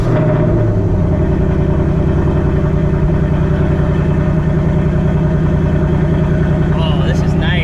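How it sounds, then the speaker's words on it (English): A 2024 Ford Mustang GT V8 idles after a cold start, a loud, close, steady deep rumble with a fast even pulse, holding level the whole time. "Let's go ahead and get a cold start"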